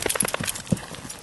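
Horse hooves at a cross-country riding clinic on a farm, a quick irregular run of soft clip-clop thuds over about a second, fairly close, with no talk.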